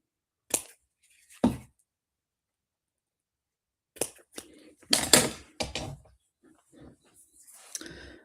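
Scissors snip thread on a handmade mountain slider craft card, with a few short, crisp cuts spaced apart, then light paper handling and rustling, close and fairly quiet.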